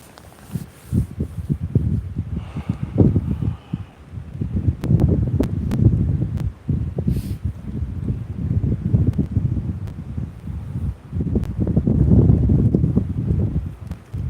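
Wind blows outdoors on an open boat, a steady rushing roar with gusty surges and rustling buffets against the microphone, loud and continuous throughout with no talk.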